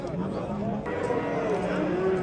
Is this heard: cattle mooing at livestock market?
yes